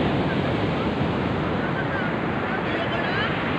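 Surf rushes in a steady, loud wash of water at a white sand beach in Bolinao, Pangasinan, with wind buffeting the microphone and a voice faintly under the noise.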